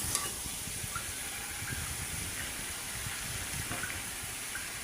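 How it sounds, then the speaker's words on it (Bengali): Hot water is poured into a pan of vegetable curry with shrimp that has been sautéed until well cooked down, giving a steady gushing splash over a sizzling hiss, close and continuous with no talk. "গরম পানি দিয়ে দিলাম।"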